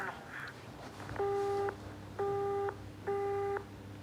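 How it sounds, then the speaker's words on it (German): A telephone busy signal plays after a recorded message, three steady, evenly spaced electronic tones over faint background hiss. "nach der ganzen tollen Ansprache ist das ein Besetzzeichen"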